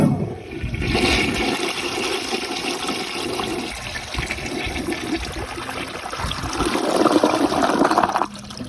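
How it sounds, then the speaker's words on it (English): A flushometer toilet flushes with a loud rushing surge of water that holds steady, then swells again near the end before tapering, heard up close in a bathroom with no talking. "I might just flush the worm down."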